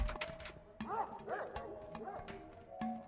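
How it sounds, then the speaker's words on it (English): Dog barking in the video game Pathologic, several close yips and whimpering barks in quick succession over a busy game soundscape, with a voice talking faintly beneath. "The dog sounds so freaking close."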